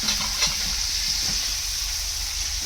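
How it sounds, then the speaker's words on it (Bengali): Spices for shahi paneer hissing in a pan as a little water is poured in, a sustained bright sizzle with faint stirring, close and steady throughout. "আমি একটু হালকা জল দিয়ে দিচ্ছি যাতে মশলাটা লেগে না যায়"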